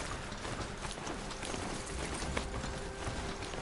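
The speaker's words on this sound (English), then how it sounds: "The Striders aren't that fast, despite being horses." A Strider, a robotic horse mount in Horizon Zero Dawn, runs with a dense, steady clatter of hooves and mechanical rattling that stays constant and close throughout.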